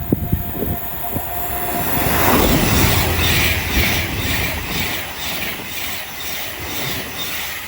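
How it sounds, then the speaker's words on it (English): An Avanti West Coast Class 390 Pendolino, running from Glasgow Central to London Euston, passes through Watford Junction on the West Coast Main Line, a loud close rush of wheels and rail noise that swells and then holds steady, with faint wheel squeal. "will be a Banter West Coast 390 Pendolino going from Glasgow Central to London Euston"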